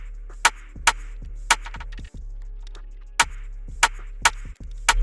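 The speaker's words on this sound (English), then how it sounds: "First sound we use rim shot." Sharp rim shot hits from a drum kit programmed in FL Studio, cracking out repeatedly and loud over a running beat with a steady low kick and bass pattern, no voices.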